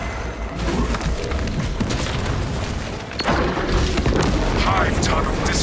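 Melter charges blowing up a hive tunnel in a video game, a dense roaring wall of explosive rumble that dips briefly, then surges back with a second heavy blast, loud and continuous with debris-like crackle.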